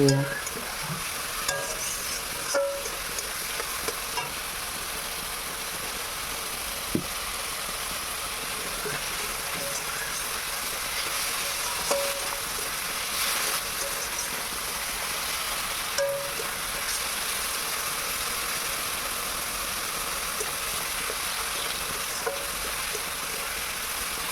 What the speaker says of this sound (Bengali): একটু শুকনো লঙ্কা গুঁড়ো আর একটু ধনে গুঁড়ো দিয়ে ভালো করে মশলাটাকে একটু কষিয়ে নেব